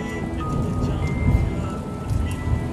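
Steady rain falls in a continuous wash of patter as the backdrop to a narrated French horror story about a burial, with low rumbling underneath.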